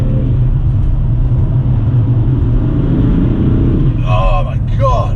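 A BMW M3 on winter tyres drives with a loud, steady engine drone and road rumble throughout, the sound close and continuous. A voice briefly talks near the end.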